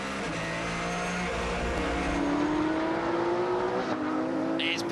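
Porsche GT3 Cup race car recorded onboard at Manfeild Raceway, its engine droning loudly and steadily with pitch climbing through the gears, close and continuous throughout.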